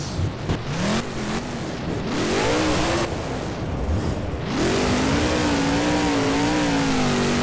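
Monster truck engine in BeamNG Monster Jam freestyle, revving hard through a donut, rising and falling in pitch with a sustained roar that swells louder near the end, alone without talk.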